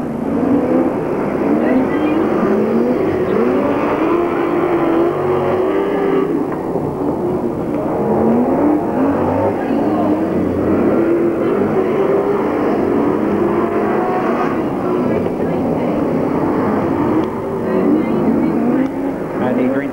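Super sedan race cars roar around Portland Speedway at a 1991 Victorian title race, their engines droning and wavering in pitch nonstop beneath a race commentator's talk.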